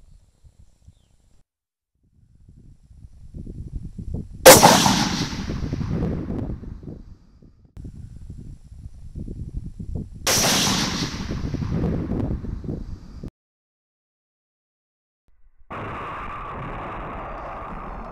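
Two sharp, loud rifle shots in .243 or .223 ring out several seconds apart from a gun carrying a One Leaf NV100 night vision scope. Each crack decays into rumbling outdoor noise, and a steady electronic hum follows near the end.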